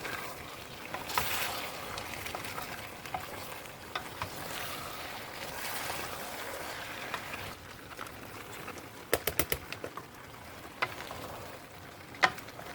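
Okra added to a pot of Ghanaian okra stew fries and sizzles with a steady hiss, broken by a few sharp clinks and stirring knocks near the end.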